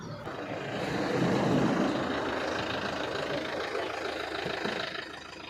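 A vehicle engine idles steadily nearby, producing a continuous low rumble with a faint hiss that holds at an even level throughout, with no one talking.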